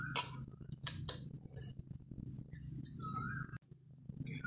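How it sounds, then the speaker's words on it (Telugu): Boiled potatoes being mashed in a mixing bowl, with repeated light clinks and scrapes of utensil against the bowl coming in irregular bursts over a steady low hum. "దుంపల్ని పూర్తిగా ఇలాగా మ్యాష్ చేసుకుని వేసుకోవాలి"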